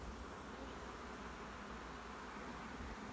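Honey bees crowd around a hive that is about to swarm, a continuous, even buzzing drone of many insects close by, with no talk.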